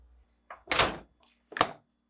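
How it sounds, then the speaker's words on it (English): A GE refrigerator's fresh food drawer being pushed back into place, giving two short, solid thunks about a second apart, close and fairly quiet, each with a faint lead-in rustle. "reinstall the drawer by aligning and pushing back into place"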